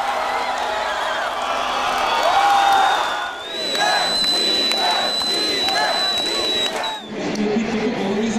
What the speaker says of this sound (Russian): Болельщики ликуют